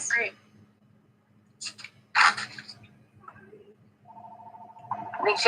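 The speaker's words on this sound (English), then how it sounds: "that was my work phone ringing" A work telephone ringing indoors during an online meeting, a steady electronic ring entering in the last second and a half after scattered voices and clatter, moderately loud and close.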